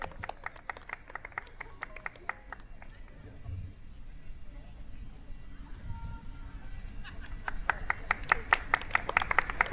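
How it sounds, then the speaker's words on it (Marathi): Scattered hand claps from a crowd at a Maghi Ganeshotsav pandal as a special guest is welcomed, sparse and thin at first, then thickening into louder, denser applause toward the end, with someone speaking over it. "एकदा जोरदार टाळ्या सरांसाठी होऊन जाऊ देत."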